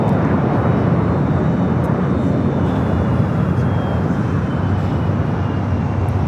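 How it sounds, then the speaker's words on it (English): A Gulfstream G650ER business jet at LAX produces a loud, steady broadband engine roar that fills the whole span without a break, with a faint whine riding on top. "It's a Gulfstream G650ER"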